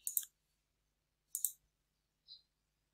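A computer mouse clicks quietly while setting up rates in software, two crisp double clicks about a second apart followed by a fainter single click.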